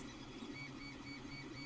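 Steady whirring hum of a Creality Ender 3 3D printer running unmodified, its fans and stepper motors droning evenly at close range with no speech.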